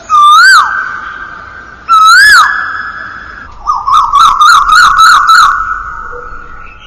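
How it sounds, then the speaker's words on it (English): A cuckoo (koel) sings in loud, clear whistled calls: two long rising-and-falling notes, then a quick run of shorter warbling notes, with no voices. "in which way the cuckoo bird is singing."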